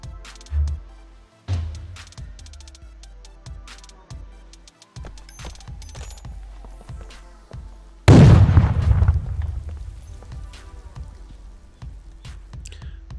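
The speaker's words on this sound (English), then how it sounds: "I kind of went for the easy option there with a grenade" A grenade detonates in the tactical shooter Ground Branch, set in a depot: one loud, close boom with a long rumbling tail that stands out from scattered quieter thumps and footsteps before it.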